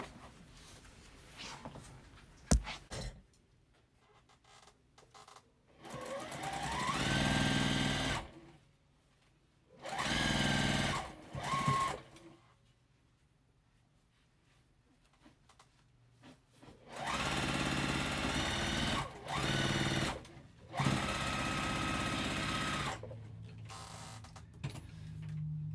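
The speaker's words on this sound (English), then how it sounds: "So I'm going to flip this up and sew across the bottom." A sewing machine runs across the bottom of joined rows on a Crazy House quilt block in four or five separate stretches of steady stitching, each a few seconds long, with quiet handling gaps between them.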